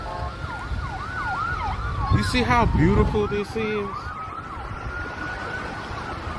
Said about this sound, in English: they got sirens ablaze in the background